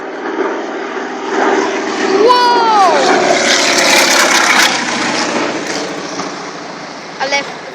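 Firefighting aircraft engine during a water drop at a forest fire, a loud sustained propeller drone that swells overhead for several seconds then fades, with people talking nearby.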